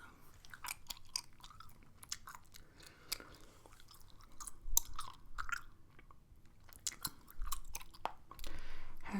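Gum being chewed close to the mic, with wet, sticky smacks and clicks repeating in an uneven rhythm, soft and intimate with no talking.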